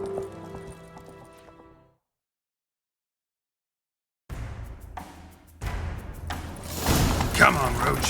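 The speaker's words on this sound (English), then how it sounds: "Grab a horse, we'll chase him down." Horse galloping in the video game The Witcher 3, hooves pounding in a steady clip-clop after a brief silence, growing louder amid game music and action sounds.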